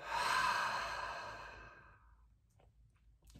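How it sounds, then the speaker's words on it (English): A single long, deep exhale flows out in a soft breathy sigh, close and quiet, tapering away into near silence with faint small sounds afterward. "So all we're doing is taking deep breaths"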